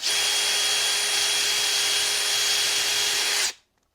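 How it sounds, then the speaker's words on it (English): A power drill bores out holes in a Sealey 12V battery charger, a loud steady high-pitched whine holding for about three and a half seconds before stopping abruptly. "Let's drill these out."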